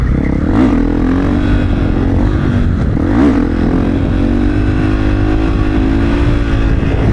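A supermoto motorcycle engine drones steadily with a throaty exhaust note, rising briefly in a couple of revs, loud and close throughout.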